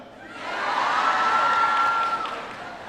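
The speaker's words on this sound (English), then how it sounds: "You're all just cheering because I know Michelle." A large audience at an Obama event in Prince George's County cheers and applauds as a steady roar of clapping and voices, with a sustained whistle rising through the middle before the noise eases off slightly.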